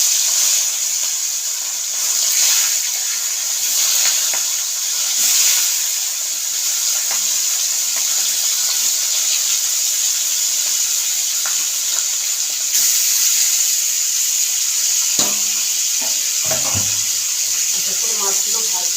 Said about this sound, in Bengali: মাছগুলো ভাজি।